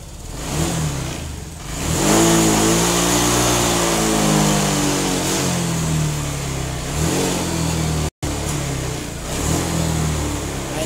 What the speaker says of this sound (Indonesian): langsung aja kita akan coba hidupkan motor ini seperti apa hidupnya ya